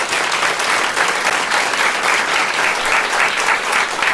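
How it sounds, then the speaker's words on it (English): Sustained audience applause fills a public talk session on modern masculine identities, steady and dense throughout, with no voices over it. "who just got the first sustained applause for an answer in the green space today, is Rutgers professor Brittany Cooper"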